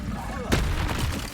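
A fiery burst erupts from an Incendio spell cast in Hogwarts Legacy, a sudden loud whoosh and roar that rises halfway through and keeps rumbling close up, with no voices over it.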